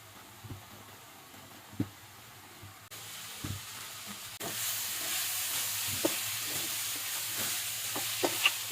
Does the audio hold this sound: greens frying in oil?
yes